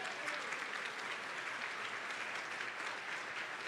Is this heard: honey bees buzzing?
no